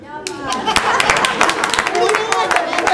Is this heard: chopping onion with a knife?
no